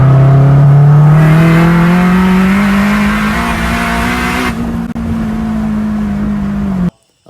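Turbocharged K24-powered Acura RSX, tuned to around 500 horsepower, revving hard for about seven seconds: a loud, rising engine note with a steady climbing drone, then a sharp cutoff near the end.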